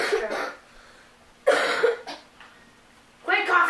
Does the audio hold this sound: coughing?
yes